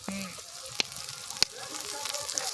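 Ginger paste frying in a pan for a Bengali country-chicken egg curry, with a steady broadband sizzle throughout, a couple of sharp pops or spatters, and faint voices in the background.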